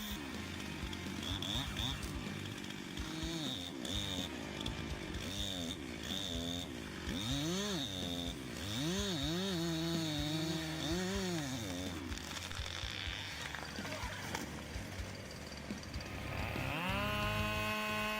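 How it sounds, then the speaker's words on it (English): A chainsaw cuts through giant trees, its engine droning steadily throughout with rising and falling revs as the chain bites, over a moderate background. "A modern chainsaw that takes on the challenge of cutting down giant trees with precision and power"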